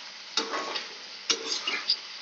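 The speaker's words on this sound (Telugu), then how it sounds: "కడాయి పెట్టుకొని ఆయిల్ అనేది వేసుకొని చికెన్ ఇలా ఫ్రై చేస్తున్నాం" Chicken frying in oil in a kadai, a thin, close hiss with two or three quick scraping stirs that briefly flare the crackle, no talking.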